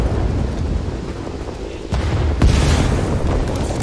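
Rumbling artillery explosions from a plastic army men video game boom in a dense, continuous roar, with a sharper blast near the end.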